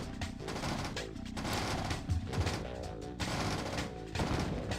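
Dense, crackling gunfire and blasts keep going as a harvester is blown up in an EA strategy game, a steady, fairly loud barrage with repeated sharp bursts and no speech.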